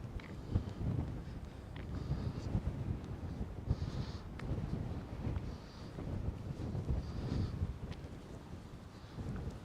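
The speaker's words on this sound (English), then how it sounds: "It's a little windy. It's a little breezy up here." Steady wind buffeting and rumbling across the microphone on a hilltop at Scotts Bluff National Monument, gusting louder at moments, with no other clear sounds.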